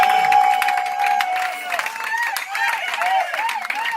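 Worshippers at a church service clap hard and fast, a thick wash of many hands filling the room while a voice rises and falls over the top.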